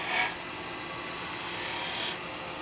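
Spindle gouge cutting a wooden snowman gift box on a lathe: a steady, faint hissing scrape of the tool on spinning wood, continuous throughout with slightly stronger bursts at the start and near the end.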